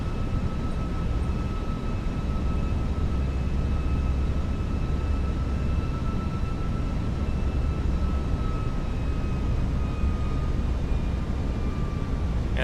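Airplane on a manual landing approach at Cyprus: a steady, continuous engine roar with faint sustained whining tones, even in loudness throughout and with no voices.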